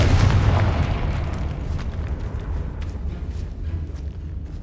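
A Confringo spell explosion in Hogwarts Legacy, one heavy low boom at the start that fades into a rumbling, crackling tail, loud and alone.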